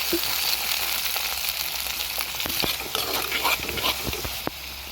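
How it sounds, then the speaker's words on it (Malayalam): Ginger, garlic, onion and shallots fry in a pan with a steady, close sizzle and crackle, with a few sharper pops near the end. "ഇഞ്ചി, വെളുത്തുള്ളി, ഉള്ളി, സവാള ചേർത്ത് കൊടുക്കുക."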